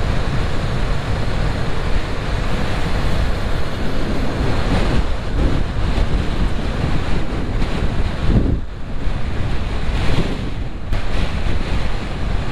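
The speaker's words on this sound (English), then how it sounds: "Oh, it's so windy." Heavy, continuous wind buffeting roars against the microphone while riding a motorcycle at about 25 mph, steady and loud throughout with slight surges.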